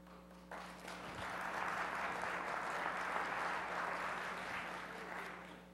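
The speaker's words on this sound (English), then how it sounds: "Powers hasn't had a round of applause in a while." Crowd applause fills downtown Powers, a small Oregon town, greeting arriving Cycle Oregon riders on Main Street; a steady, moderately loud wash of clapping holds for several seconds over a low hum.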